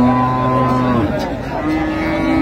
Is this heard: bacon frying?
no